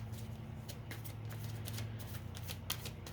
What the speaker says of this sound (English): let's just start shuffling